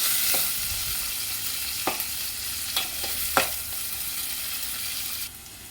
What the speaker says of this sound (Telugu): కలుపుకొని ఆనియన్ కూడా వేసేసుకున్నాం.